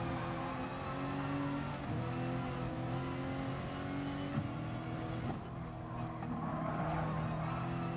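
Race cars, including a Beetle, lap the Nürburgring Nordschleife in Gran Turismo Sport, with engines droning continuously and rising and falling in pitch through gear changes and braking, a dense unbroken roar with no talking.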